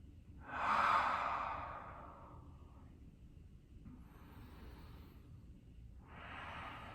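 A slow, audible exhale during a yoga session, rising and fading, followed by softer breaths in a quiet room with a faint steady hum beneath.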